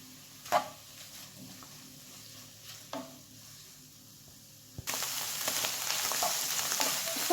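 Shrimp and button mushrooms sauté in a pan with salt and spices, a soft sizzle with a few stirring knocks that jumps to a louder, steady frying hiss partway through; no talk.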